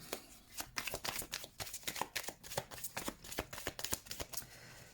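Tarot cards are shuffled for a draw, giving a soft, rapid series of papery riffles and taps close by and at low volume.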